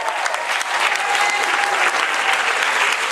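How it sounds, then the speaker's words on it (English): Loud, continuous applause from a crowd at a live Q&A event with YouTube personalities, a thick steady roar of clapping hands with a hint of cheering, close and filling the whole moment. "Wait, can we cheer for Darren?"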